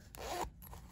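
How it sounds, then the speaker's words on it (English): A small zipper on a handmade fabric coin purse pulled once, a brief close rasping zip lasting under a second with no talk. "And it has a little zipper."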